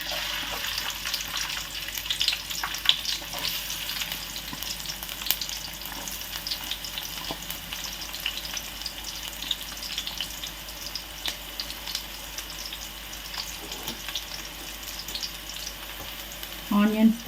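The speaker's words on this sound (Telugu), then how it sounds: "ఆయిల్ వేడెక్కిన తర్వాత ఆనియన్స్ వేసుకుందాం." Onions fry in hot oil for a Telangana-style fish curry, giving a steady, dense crackling sizzle throughout, with a few faint clinks and a louder knock near the end.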